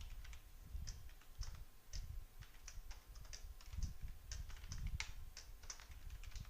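Python code being typed on a computer keyboard: quiet, quick runs of key clicks in irregular bursts with brief pauses, close and soft, with no talking.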